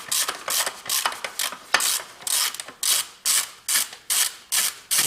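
A ratchet wrench turns an engine mount nut on a Toyota Camry 2.4 VVT-i, a close series of rasping clicks in irregular strokes that settle into a steady back-and-forth rhythm of about ten pulls.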